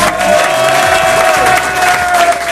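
A television studio audience applauds a singer's career, loud dense clapping mixed with cheering and whoops over a sustained musical tone.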